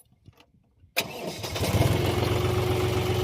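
A 4x4 farm tractor engine cranks and catches with a sharp onset, then settles into a loud, steady diesel idle in an outdoor field setting.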